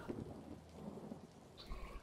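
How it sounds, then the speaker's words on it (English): Rain falls steadily with low thunder rumbling underneath during a rainy scene in the video game A Memoir Blue, faint and continuous with no voices. "Oh, it's raining."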